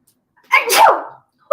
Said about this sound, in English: To sneeze.